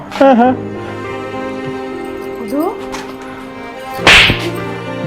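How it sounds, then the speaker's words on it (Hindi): A sharp slap across the face cracks out loud near the end, a single hard smack between stretches of raised voices in a heated domestic argument. "भाभी ये थप्पड़ क्यों मारिया"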